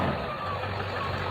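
A monster truck reversing with its engine rumbling close by and a backup beep sounding over it in a brief burst.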